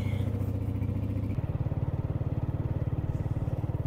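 A motorcycle engine runs close by, first as a steady idle and then as a quicker, strongly pulsing throb that holds to the end.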